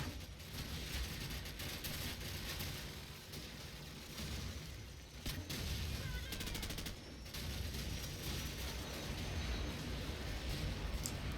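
An enemy airstrike in Call of Duty 4: Modern Warfare, with dense continuous gunfire, explosions and booming bursts layered into a loud, chaotic battle din over about eleven seconds.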